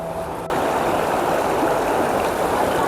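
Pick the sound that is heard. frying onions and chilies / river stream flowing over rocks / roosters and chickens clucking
river stream flowing over rocks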